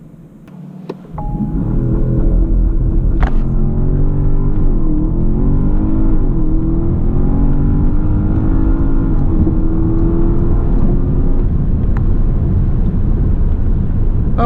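A Porsche Panamera Turbo S E-Hybrid Sport Turismo launches hard from a stop with the sport response button on, the engine surging from a quiet idle into a loud, sustained roaring acceleration with climbing pitch and brief shift dips.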